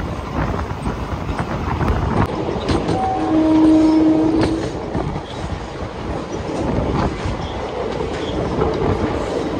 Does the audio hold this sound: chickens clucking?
no